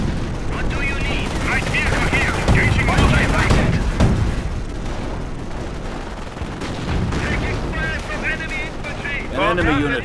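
Constant battlefield gunfire in Company of Heroes, with rifle and machine-gun bursts and heavier booms roaring nonstop while soldiers' voices shout over the din.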